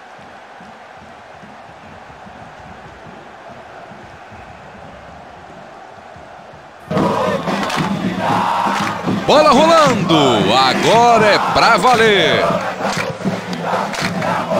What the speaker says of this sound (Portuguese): escuta só esta torcida